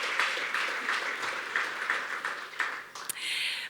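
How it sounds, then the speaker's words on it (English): Guests at a gala fundraiser dinner applaud in a room, the clapping moderate and a little uneven, with individual claps standing out before a brief sharp noise near the end. "Let's give her a round of applause once again."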